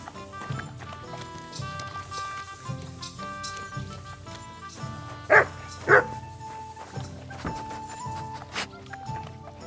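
A dog in the medieval Bohemian setting of Kingdom Come: Deliverance II gives two loud, close barks about half a second apart, standing out over a steady bed of game music and ambience with faint hoofbeats.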